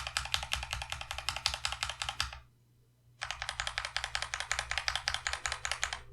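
Akko CS Jelly Pink switches on a keyboard are typed in a lubed-versus-unlubed comparison: two bursts of rapid, even, close clacking keystrokes separated by a brief pause, with no voices.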